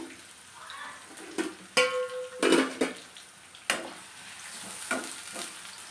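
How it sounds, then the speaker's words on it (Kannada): Onions sizzle and fry in a hot pan for a chicken methi dry, with loud stirring scrapes and clatters of a spoon against the pan breaking through the steady crackle, close up and with no talking. "ಅದೇ ಥರ ಈರುಳ್ಳಿ ಹಾಕ್ತಾಯಿದ್ದೀನಿ ಈರುಳ್ಳಿ ಒಂದು ಸ್ವಲ್ಪ ಫ್ರೈ ಆಗಲಿ"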